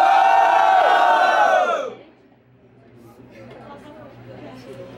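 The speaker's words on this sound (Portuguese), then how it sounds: "Quem gostou das rimas da Chicana, barulho e mão pra cima" A crowd at a street rap battle roars with loud cheers and shouts for about two seconds, then drops away into quieter murmuring and scattered voices.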